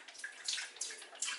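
Bone broth poured into the bottom of a pot for keto meal prep, a soft splashing pour in uneven bursts, fairly faint and with no voices.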